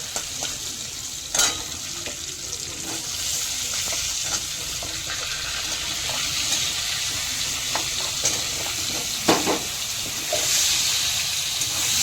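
Potato pieces fry with salt in a pan for a cauliflower fish curry, a steady soft sizzle broken by a few sharp scrapes and stirring clatters, close and without talk.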